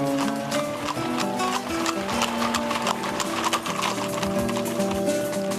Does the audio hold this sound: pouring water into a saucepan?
no